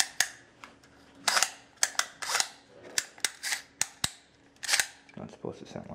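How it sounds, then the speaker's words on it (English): A faulty TACO normally open heating actuator on a fan coil unit gives off a string of irregular sharp clicks and snaps, some loud and some faint, with a low hum beneath. "one bad actuator for the heating line, TACO normally open"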